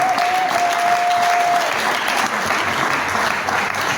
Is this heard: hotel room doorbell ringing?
no